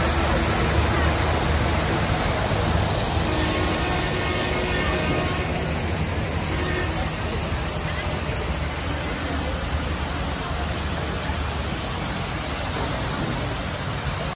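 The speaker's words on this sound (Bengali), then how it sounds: "আর আমার কিন্তু এখানকার ঝর্ণার শব্দটা খুব বেশি ভালো লাগে।" A waterfall fountain at Leaf Lounge restaurant in Mawa gives a constant, broad rushing splash that stays even throughout, with voices faintly mixed into the background.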